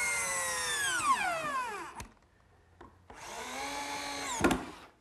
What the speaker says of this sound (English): Now this top assembly gets fastened to the cabinet with screws.